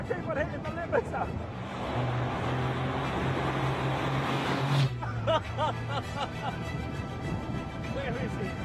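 A Caterham race car engine at Brands Hatch drones steadily under excited talk and laughter, its pitch holding flat against the rev limiter, with a brief sharp spike near the end.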